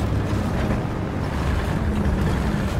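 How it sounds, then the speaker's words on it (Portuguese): A low, steady tank engine rumble in the video game War Thunder drones continuously, a heavy motor noise with muffled booming in the background. "Eu tô ouvindo barulho de motor"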